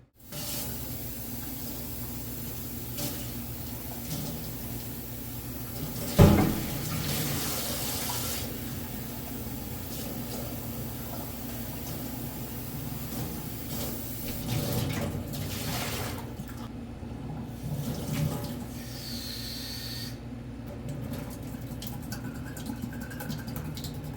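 Water runs steadily from a tap while an old A&W root beer bottle is rinsed, with a single hollow knock partway through and small splashing shifts.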